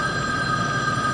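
A telephone on a theater stage rings during a live play, a steady bright electronic tone held throughout the brief moment, fairly loud against the room's ambience, with no voices.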